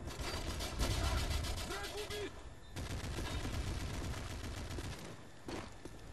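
Rapid gunfire from an automatic weapon in Call of Duty: Modern Warfare 3 multiplayer, dense bursts of shots over game sounds and music, with a brief pause midway before the firing resumes loudly.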